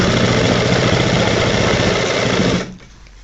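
Close, loud sewing machine stitching a shirt front placket, a rapid steady whirr that runs continuously before cutting off abruptly near the end.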